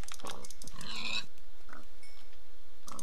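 Pigs in Minecraft oink in several short grunting bursts spaced through the passage, fairly loud and close, separated by quiet gaps, with no talking.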